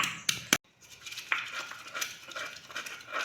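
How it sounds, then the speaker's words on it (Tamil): Ginger and garlic are pounded coarsely for cabbage bonda: two sharp, close impact thuds come at the start, followed by softer clinking and tapping of kitchen utensils. "இப்போ இஞ்சியும் பூண்டும் இது மாதிரி தட்டி எடுத்துக்குவோம்."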